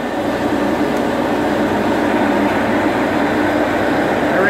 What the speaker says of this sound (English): turbo dryer going.